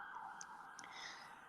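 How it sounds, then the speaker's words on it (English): A police car siren wails faintly and steadily in the distance, heard as a thin background tone through a quiet indoor space with a few soft ticks. "There's some police car on the background."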